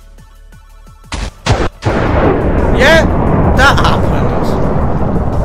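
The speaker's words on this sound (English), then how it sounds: "Let's do lightning storm TNT. I wonder what this is going to do. Probably a ton of lightning." In Minecraft, lightning storm TNT from the Too Much TNT mod sets off a few sharp booms, then a sustained roar of rumbling explosions and crackling thunder; someone speaks briefly over the start.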